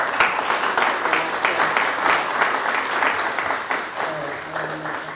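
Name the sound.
panel audience applause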